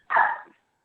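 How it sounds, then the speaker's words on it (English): A small dog lets out a single short, sharp bark, close and fairly loud, during a quiet indoor council meeting with no other sound around it. "Somebody's little dog"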